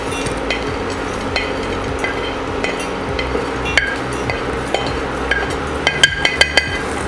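Fried oats and roasted gram get stirred into a pan for oats chikki, with a steady scraping churn and scattered metallic clinks of the spoon against the pan that grow busier toward the end, loud and close.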